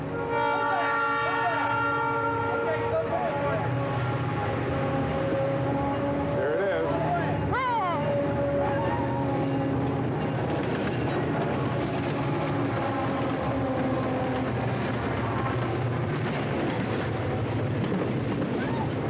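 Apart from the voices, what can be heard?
freight train passing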